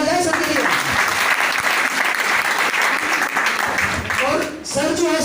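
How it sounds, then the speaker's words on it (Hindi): Audience applause at a seminar, a dense steady clapping from a crowd filling the room for about five seconds, with a voice speaking over it at the start and end. "एक बार तो तालियां हो जाए सबके लिए"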